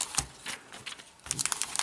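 Protective plastic film being peeled off a Logitech K811 keyboard, with scattered crackling and crinkling bursts and brief tearing rasps at close range.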